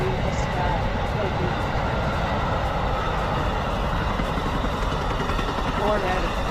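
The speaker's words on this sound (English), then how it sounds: "The 98 Silver Meteor, blazing its way through the beautiful countryside of Florida." The Amtrak 98 Silver Meteor passenger train passes through Florida countryside, a steady loud rumbling roar that stays constant throughout, with speech likely mixed in.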